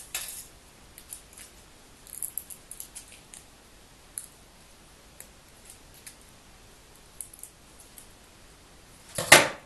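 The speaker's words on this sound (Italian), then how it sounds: "possiamo recuperare e tagliare dei piccoli cerchiolini che diventeranno le bollicine" Scissors snip small circles out of leftover aluminium foil, giving a scattered series of sharp, close clicks and crinkles in otherwise quiet surroundings, ending with a louder rustle.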